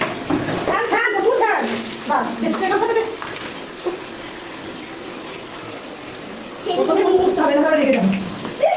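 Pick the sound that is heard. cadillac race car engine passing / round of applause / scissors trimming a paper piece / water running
water running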